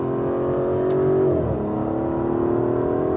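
Turbocharged Aston Martin DB11 engine pulls hard in third gear, a loud, sustained drone that climbs in pitch, dips briefly at a shift and keeps building, heard alone without talk.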